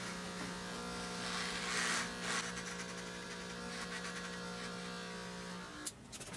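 Electric razor buzzing steadily as it shaves the back of a head, a continuous close hum that shifts slightly as the clipper moves, cutting out near the end.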